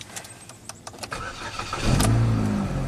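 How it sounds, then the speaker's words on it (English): A car engine on a repaired vehicle with a relay ground bypass cranks with clicks and brief turning, then catches and fires into a loud, steady idle close by, with no talk. "This time it should crank right up."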